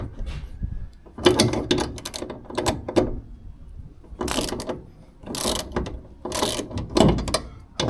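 A retractable truck-bed ratchet strap is worked by hand, its mechanism clicking and ratcheting loudly and close in several bursts with brief pauses between them, no speech.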